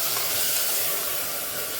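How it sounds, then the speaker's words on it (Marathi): Mutton rubbed with salt and turmeric tipped into hot sautéed onions, giving a loud, steady, hissing sizzle that fills the whole moment without a break. "आपण ह्याच्यामध्ये आता मीठ आणि हळद लावलेलं मटण टाकून घेऊ।"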